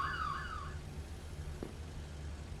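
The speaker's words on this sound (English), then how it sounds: "that's the alarm that I put on when I'm late for stream." A phone alarm rings with a warbling, rising-and-falling electronic tone for under a second, fairly clear over a steady low background hum, then stops; no one speaks.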